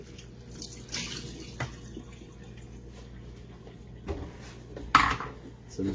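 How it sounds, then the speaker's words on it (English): A sauce jar is rinsed out with spring water at a sink: soft running water with light drips and a few faint clinks of glass, fairly quiet and close, no talk. "So I'm just going to rinse this one out before I start the next batch."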